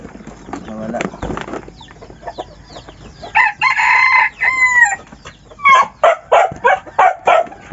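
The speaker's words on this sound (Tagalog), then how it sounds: "Ito na yung labuyo mo." A labuyo wild junglefowl rooster crows several times and then gives a series of short, loud clucks up close, while a dog barks and people talk in the background.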